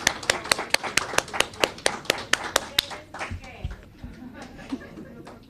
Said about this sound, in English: Let's have a bigger round of applause, please.